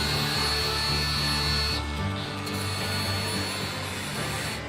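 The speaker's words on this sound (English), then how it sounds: "I'm putting a bevel on this with the grinder" A grinder whines loudly and continuously as it bevels a metal edge ahead of welding at a mine repair, a steady close machine drone that shifts pitch slightly partway through.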